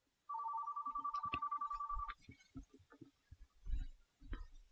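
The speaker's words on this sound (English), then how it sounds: "Of course, I get a phone call," A telephone rings in a steady electronic trill for about two seconds and then cuts off, followed by scattered soft knocks and thuds.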